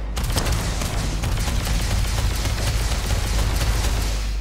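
Rapid gunfire in the space video game Starfield crackles in dense bursts over a low rumble, a continuous loud fusillade with no pauses.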